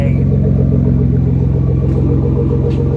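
A car idles through a Fabworx 4-inch titanium straight-pipe exhaust with a loud, close, deep rumble that pulses steadily throughout and carries no speech.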